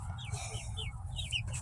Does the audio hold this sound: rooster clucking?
yes